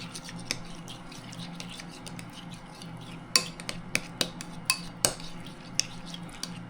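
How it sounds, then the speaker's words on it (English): A utensil mixing deviled egg filling with relish in a small bowl, with soft scraping and a run of light clinks against the dish, quiet and close with no talk. "And you mix that all up."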